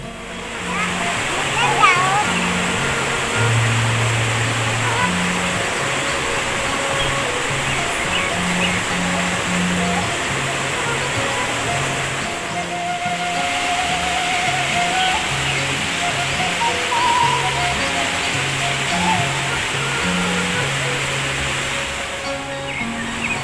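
Cold water runs over many rocks in a rural village stream in Sukabumi, West Java, a loud steady rushing and splashing that continues throughout while people talk over it.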